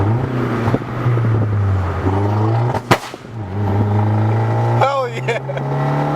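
A 2013 Dodge Dart holds a steady engine hum on a two-step launch limiter, with a sharp crack near the middle. Voices talk and shout over the engine.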